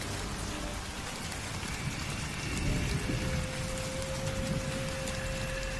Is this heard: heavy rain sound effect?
yes